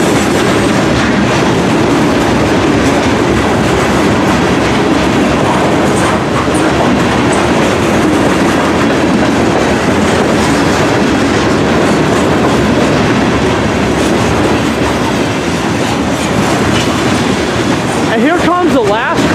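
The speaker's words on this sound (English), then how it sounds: "here comes the end of this monster grain train" Long CSX grain train of about ninety cars rolling past, loud and near, with a continuous rumble and steady clickety-clack of wheels over rail joints throughout, occasional faint squeal mixed in.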